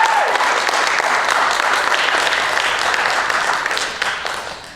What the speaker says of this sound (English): let's get a very big round of applause for everyone who was brave enough to come on this stage and tonight and perform